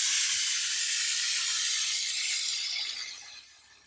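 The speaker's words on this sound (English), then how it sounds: "Now this is where the steam really gets hot" A Chief Steamer 155 240-volt steam cleaner, used for washing a car, gives off a loud, steady high-pitched hiss of steam that fades slightly toward the end.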